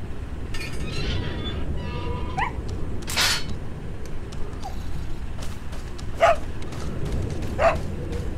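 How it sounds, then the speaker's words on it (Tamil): Dog barking in the video game Resident Evil 4, a few short barks scattered over a steady low rumble, with occasional clinks and other game effects. "இந்த நாய் பார்த்தீங்கன்னா கேமில் பாதிக்கு மேலே வரும்"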